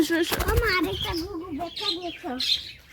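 Doves flutter and flap their wings nearby while a person talks over them, with a few short chirps mixed in.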